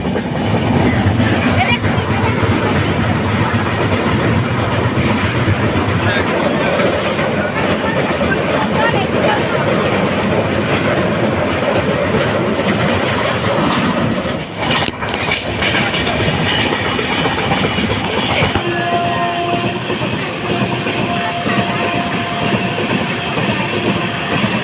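Dhauli Express passenger train running on tracks past Jaleswar, heard from on board as a loud, continuous rumble with rhythmic clickety-clack of wheels and brief shifts in tone as it rolls along.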